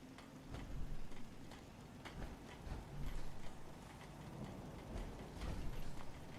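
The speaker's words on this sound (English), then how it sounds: "Hope this rain lets up soon." Steady rainfall in the video game Fallout 4, a soft, even patter with scattered drop ticks and faint low rumbles, quiet and continuous with no voices.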